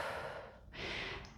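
Heavy, breathy exhaling and gasping between sets of a 20-minute strength workout, a steady rush of breath that swells again after a brief lull, close and alone.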